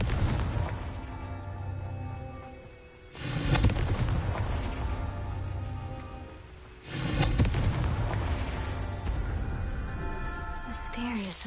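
Two heavy blasts from the Confringo spell in Hogwarts Legacy, each a sudden booming burst that rolls into a long rumbling decay, spaced a few seconds apart with game music and a voice underneath.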